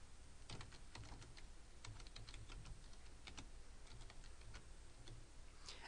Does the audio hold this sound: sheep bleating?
no